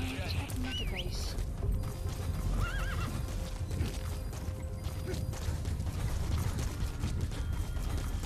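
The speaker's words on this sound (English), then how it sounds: "Horse." A horse in the video game Metal Gear Solid V neighs loudly near the start, then its hooves clip-clop steadily, mixed with mechanical ratcheting game sounds.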